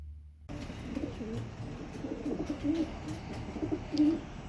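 Pigeons cooing softly in low, rolling calls around a water trough, a few birds murmuring close by with faint rustling around them.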